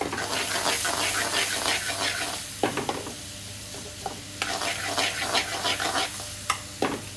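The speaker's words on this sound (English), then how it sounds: "I want the onions to caramelize and soften up and look something resembling the Buna onions." Onions frying in a pan for lamb rogan josh, a dense close sizzle with frequent scraping stir strokes, easing briefly midway before the vigorous stirring and hissing resume.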